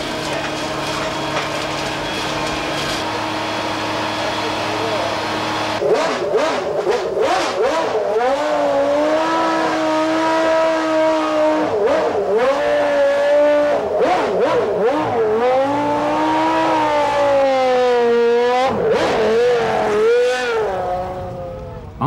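A 1991 Williams FW14 Formula One car with an improved Renault V10 engine and semi-automatic gearbox runs cautious early laps, its loud, high engine note rising and falling through repeated shifts and revs across the whole stretch.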